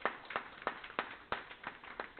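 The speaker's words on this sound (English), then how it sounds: "Can we give them a round of applause, please?" Scattered claps from a small school board meeting audience, a handful of distinct sharp hand claps in an uneven rhythm, fairly faint and with no talk over them.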